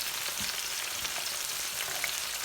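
Chicken pieces for butter chicken frying in a pan on their first side, a steady broadband sizzle with faint crackles and pops throughout, no voices.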